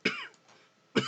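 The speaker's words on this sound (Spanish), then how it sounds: "No me quedo callado por quieto, sino que me callo por la tos" A man coughs twice, two short, harsh bursts about a second apart, close and fairly quiet, with silence between them.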